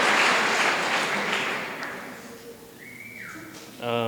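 Audience applause at a talk, a loud broad burst of clapping that gradually fades over a few seconds, followed by a brief tonal sound and a voice starting to speak.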